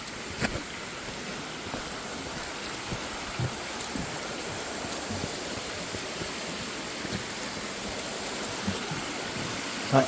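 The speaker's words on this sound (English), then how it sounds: "So, little mini creek waterfall here." A small creek waterfall gives off steady broadband rushing and splashing, an even, continuous wash of water that holds at a moderate level throughout without any voices.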